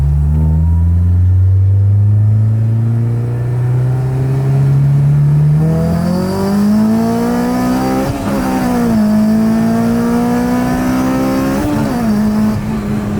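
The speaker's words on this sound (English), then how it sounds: "The car is definitely louder, but it's deeper at the same time." A Honda VTEC car engine with an aftermarket Yonaka catback exhaust revs with a deep, loud exhaust note, pitch climbing steadily then holding with small rises and dips, continuous and close.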